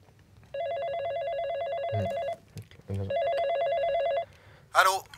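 An electronic telephone ringtone sounds for an incoming customer service call, two long bursts of warbling tone separated by a pause, clear and close, with brief speech-like noises between and a voice at the end.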